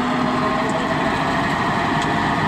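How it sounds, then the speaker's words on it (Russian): Tractor-driven Doberkmet mulcher mower running off the PTO at 540 rpm, a loud steady engine and rotor drone with a constant mechanical whine and no breaks. "Разгоняем косилку на 540 оборотов ВОМа."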